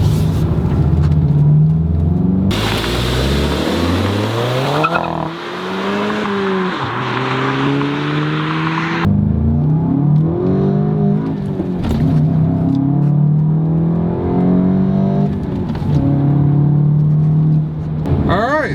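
A 2-liter Volkswagen Golf GTI pulls hard through several gears, engine note climbing and dropping with each shift, loud and close from inside the cabin, with someone talking over parts of the run.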